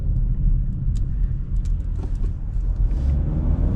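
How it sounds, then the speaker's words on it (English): Steady low rumble of a 2026 Chevy Blazer with its turbo engine while driving, heard from inside the cabin as a continuous road and engine drone without talk. "The turbo seems to be doing pretty well."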